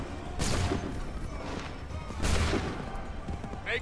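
Musket volley fire in Assassin's Creed III at Lexington and Concord: two loud, broad crackling volleys about two seconds apart, each a burst of overlapping shots, with some background murmur between them.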